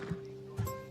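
A horse in the Assassin's Creed Odyssey video game, with two soft clip-clop hoof sounds about half a second apart over a steady low game hum.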